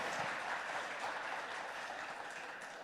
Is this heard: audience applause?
yes